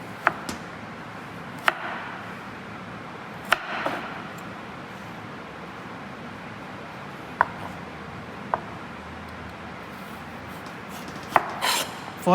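A knife chopping vegetables on a cutting board, sharp isolated knocks spaced irregularly a second or more apart, close and clear over a quiet kitchen background.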